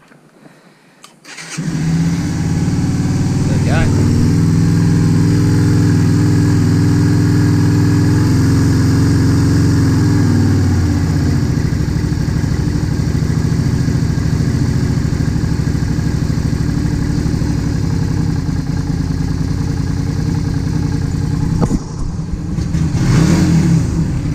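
A Yamaha Virago XV250 motorcycle, just rejetted, cranks and catches, then settles into a loud, steady idle close by for about twenty seconds before a brief rev near the end.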